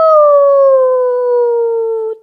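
A human voice imitates a wolf howling, reading from a children's story. One long, loud, steady howl glides slowly downward in pitch before breaking off abruptly.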